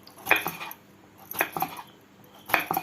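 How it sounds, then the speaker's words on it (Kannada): Knife chopping ridge gourd into small pieces on a board, three separate clusters of sharp cutting taps spaced about a second apart, close and fairly quiet. "ನೋಡಿ, ಈ ಥರ ಸಣ್ಣ ಸಣ್ಣಗೆ ಕಟ್ ಮಾಡ್ಕೊಬೇಕು"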